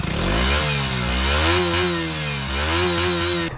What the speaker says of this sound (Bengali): so let's start the engine